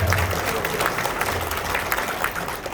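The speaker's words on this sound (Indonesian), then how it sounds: "Tepuk kita semuanya." An audience at a motivational training session on work spirit and health claps together in a steady, fairly loud round of applause lasting a few seconds, with a faint murmur underneath.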